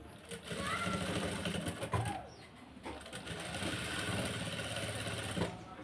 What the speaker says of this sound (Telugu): దీని పక్కనే ఇలా కుట్టు అనేది వేసేసుకోవాలి.